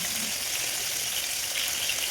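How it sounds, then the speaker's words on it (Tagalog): Dried hasa-hasa fish fries in hot oil, a dense, steady crackling sizzle that stays loud and close throughout, with no talking. "Habang nagpiprito tayo"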